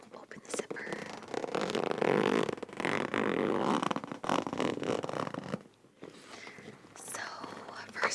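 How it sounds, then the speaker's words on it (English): Zipper on a beach bag being pulled open, several close, crisp zipping strokes in a quiet, intimate setting with soft whispering around them. "Open the zipper."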